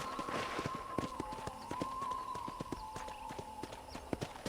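A horse's hooves clip-clop at a steady trotting rhythm in Red Dead Redemption Definitive Edition on Switch, crisp repeated hoofbeats close by over a soft ambient bed.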